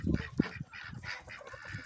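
Young domestic ducks on a farm give short honking quacks in bursts, fairly close and moderately loud, with scattered calls overlapping through the brief stretch and no talking.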